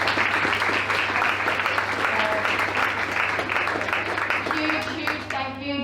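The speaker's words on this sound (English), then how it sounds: "Big round of applause for Errigal." Crowd applause after a ladies' Gaelic football senior club championship match, cheering the Errigal Ciaran team: sustained dense clapping with a low steady hum underneath, thinning near the end as a voice starts to speak.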